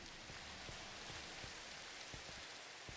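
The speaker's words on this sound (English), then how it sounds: "Rain sounds quite nice too." Rain falls in the Minecraft video game, a soft continuous patter with scattered distinct drops, played quietly and evenly throughout without speech.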